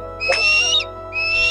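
A kite perched on a rooftop gives two loud, close, whistling calls, the first rising and bending and the second more level, separated by a short pause with no voices.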